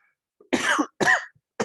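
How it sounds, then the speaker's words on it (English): Two sharp, close coughs into a microphone, each a short burst, with a third starting at the end, separated by brief silence. "Let's cough into the mic."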